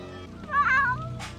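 A cat in the film Babe gives a single drawn-out meow, fairly close and clear, over a faint low background hum.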